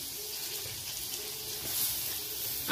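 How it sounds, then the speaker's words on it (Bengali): Chopped onion dropped into hot white cooking oil with garlic for chicken vegetable soup, giving a steady, broad sizzle that swells slightly toward the end, close and continuous with no talking. "এবার দিয়ে দিচ্ছি পেঁয়াজ কুচি,"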